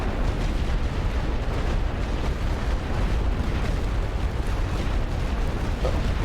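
Artillery in a WWI strategy game thunders continuously, a dense, loud rumble of explosions and booms with no gaps or distinct pauses.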